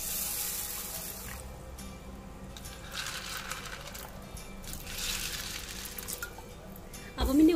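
Pulses being washed under running drinking water from a kitchen tap, a steady close splashing and rinsing with some clinking against the bowl, ending in a louder splash.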